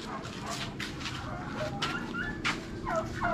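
Turkeys and chickens on a small farm give repeated short gobbles and clucks, moderately close and fairly faint, over a low background hum.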